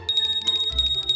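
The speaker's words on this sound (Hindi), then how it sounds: "वाह, घंटी तो बन गई है।" A cartoon bell rings with a bright, repeated metallic chime in quick succession, loud and close, over a low background hum.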